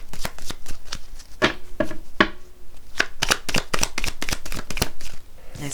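Tarot cards being shuffled and laid out on a table: a quick run of crisp, close slaps and riffles with a few short pauses, no voices over them.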